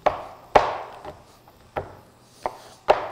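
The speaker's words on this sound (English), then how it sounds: "I'm gonna take this and just kind of give it a quick little chop up a little bit" A knife chops a block of unsweetened chocolate on a board in a home kitchen, giving six sharp, separate cuts at an uneven pace, close and fairly loud, with no talking.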